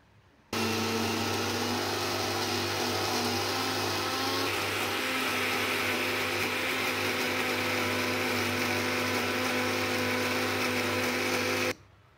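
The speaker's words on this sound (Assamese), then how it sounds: "আৰু এতিয়া মই এইখিনি চাটনি বনাই লওঁ, মিক্সিত মাৰি দিম তাৰমানে।" A mixer grinder blends amla gooseberry chutney in a steady, loud, high-pitched whir that starts abruptly and runs unbroken for about eleven seconds before cutting off, with no talking.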